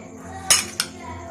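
A spoon clinks twice against a pot while mixing ginger chicken ingredients, two quick close metallic knocks over a quiet background.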